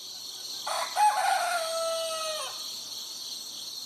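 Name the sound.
chickens clucking and rooster crowing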